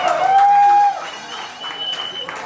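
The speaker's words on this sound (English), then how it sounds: "so both a huge round of applause" Applause at a Bacardí premium dark rum launch event in Thailand, a loud burst of clapping with a sustained tone over it for the first second, then a softer spread of crowd clapping trailing off.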